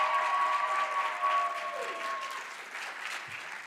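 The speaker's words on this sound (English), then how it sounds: "clap for Ivana" Audience applause at a college of medicine awards day for an emergency medicine award winner, a dense, even clatter of many hands that holds steady and then slowly eases off, with a faint ringing tone underneath.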